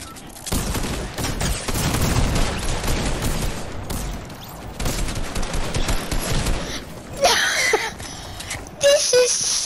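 Rapid bursts of gunfire from a video game battle in Monster Vs Robot, loud and dense with overlapping shots through most of the stretch, then sharper isolated effects near the end.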